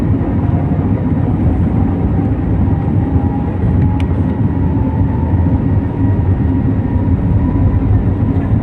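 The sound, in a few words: airplane accelerating on runway for takeoff, Singapore to Chennai flight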